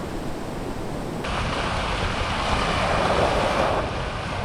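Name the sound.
warm ocean waves on island shore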